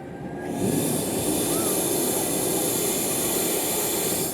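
A loud, steady mechanical roar with a high whine starts up and runs continuously from a Volvo-based vacuum excavator nearby.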